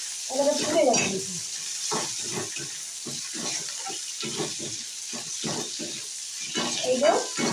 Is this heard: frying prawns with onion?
yes